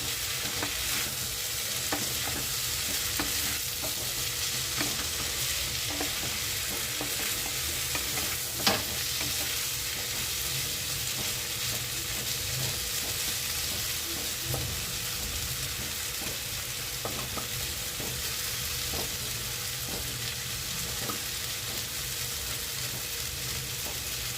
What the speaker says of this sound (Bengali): একটু লাল লাল করে ভেজে নিচ্ছি